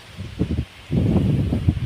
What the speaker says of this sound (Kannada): ಎರಡು ಗಂಟೆ ಜೋರು ಗಾಳಿ ಬೀಸ್ತಾ ಉಂಟು